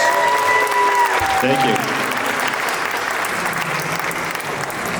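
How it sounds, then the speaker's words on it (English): A science-festival audience claps in a steady, sustained round of applause, with a brief spoken voice near the start. "Give him a round of applause, everybody."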